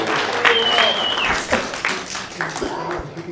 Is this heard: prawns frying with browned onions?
no